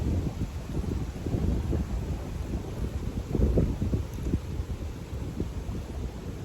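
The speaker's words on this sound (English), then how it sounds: "the wind will be blowing hard like this." Strong wind blows through a garden in winter or fall, buffeting the microphone with a low, gusty rumble that rises and falls steadily throughout.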